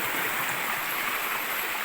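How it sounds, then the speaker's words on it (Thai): Swollen mountain stream water rushes steadily at Nang Rin waterfall in the Phu Phan hills, a dense close hiss of flowing water with no voices. "น้ำไหลใสเย็นนะครับเสียงน้ำช่วงนี้น้ำหลากนะครับ"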